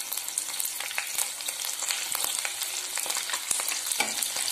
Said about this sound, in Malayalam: എണ്ണ മൂത്ത് ഇനി മീൻ അതിലേക്ക് ഇടുകയാണ് വറക്കുക.